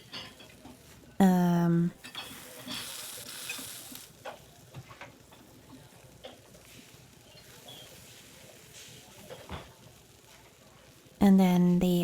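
Canadian bacon fries in a pan in the Nancy Drew: The White Wolf of Icicle Creek video game, a soft sizzle with light stirring and pan clatter, broken by short louder tones at the start and end.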